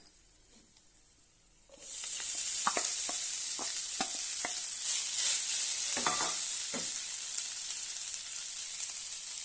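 Cooked rice and lemon juice are stir-fried in a hot pan, a sizzle that suddenly rises and then holds steady while a spatula scrapes and taps at an uneven pace.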